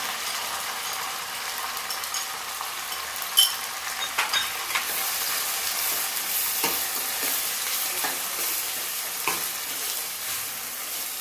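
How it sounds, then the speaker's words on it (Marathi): Chopped onion roasting with curry leaves in a hot pan for pav bhaji, a steady close sizzle broken by occasional scraping stirs of a spoon, no voices. "कांदा एकत्र भाजून घ्यायचा आहे"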